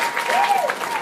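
Applause from a crowd welcoming an anti-bullying group to a stage during a cider festival event, steady clapping filling the moment with a faint tone running through it.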